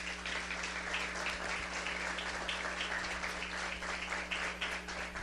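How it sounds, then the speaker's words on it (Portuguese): An audience applauding at a talk given by a community co-founder, a steady sustained wash of clapping from many hands, moderately loud and heard alone over a low constant hum. "eu queria pedir que vocês aplaudissem ela."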